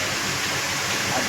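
Cold water pours steadily into a container while filling, a continuous broadband rush like a small stream, close and fairly loud, with faint voices underneath.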